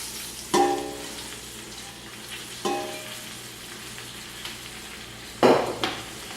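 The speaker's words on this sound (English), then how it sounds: "Give it a stir. Then you want to go in with your collard greens." Collard greens stirred into a pan with bacon fat and onions: faint background sizzle broken by three distinct scraping stir clatters, close by, with no talking.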